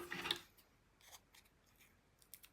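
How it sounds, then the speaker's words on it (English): Scissors snip a paper strip for a handmade card, starting with one close, crisp cut followed by faint small ticks and rustles. "Snip some of that off."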